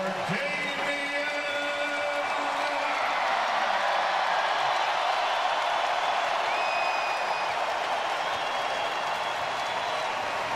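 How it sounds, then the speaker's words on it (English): A loud, dense, sustained wash of applause and cheering from an arena crowd in Portland giving Damian Lillard of the Trail Blazers a standing ovation, steady throughout, with a few whistles and a commentator's voice faintly at the start. "that allows Lillard to come out and get a standing ovation from the crowd here tonight in Portland"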